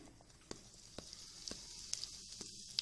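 Asafoetida (hing) sizzles faintly in four tablespoons of hot oil, a quiet hiss with small sharp crackles and pops spaced through it.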